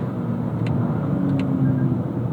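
A 2025 Toyota GR Corolla Premium with an automatic transmission drives on the road, a steady low engine drone and road rumble heard from inside the cabin, moderately loud and continuous.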